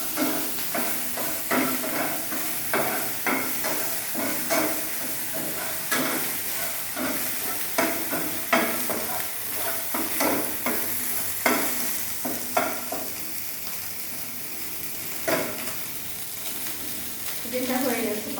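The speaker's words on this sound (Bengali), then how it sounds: "এটাকে আমি হাই হিটে তেলে হালকা করে ভেজে নিয়েছি" Chicken pieces fry in hot oil on high heat, a continuous loud sizzle with rhythmic scraping and stirring strokes throughout.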